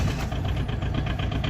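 A 2019 Aixam Minauto microcar engine idles in neutral up close, a loud, steady, slightly shaky low rumble with a rhythmic pulse and no voices.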